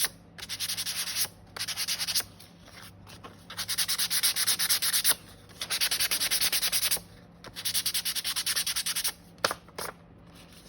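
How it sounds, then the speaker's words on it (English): Sandpaper scrubbed over a paper collage for a worn look, heard as steady bursts of close, loud, raspy rubbing separated by short pauses, with no voice. "Now, what I'm doing is just roughing over this just to give it a well-worn look. This is just a piece of sandpaper."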